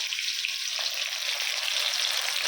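Besan-coated fish pieces fry in a pan on a gas stove with a continuous, dense crackling sizzle, close up and steady, and no voices.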